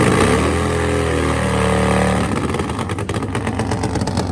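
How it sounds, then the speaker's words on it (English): Nitro-fuelled Pro Fuel Harley drag bike engine at a dragway in Fontana, California, loud and close, with a steady low idle rumble that rises into harsh revving bursts, no talking. "These Pro Fuel Nitro Harleys are ready to rock."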